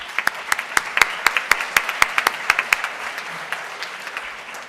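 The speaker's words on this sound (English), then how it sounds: "Let's give them all a round of applause." Scattered applause from a small audience at a Rotary club meeting: a loose series of sharp individual claps, a little over a dozen distinct strokes, fading out after about four seconds.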